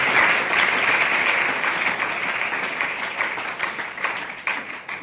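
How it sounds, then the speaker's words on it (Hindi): Audience at a school gathering applauding loudly, a dense wash of many hands clapping that holds steady and slowly thins out, with no speech over it. "जोरदार तालियों से"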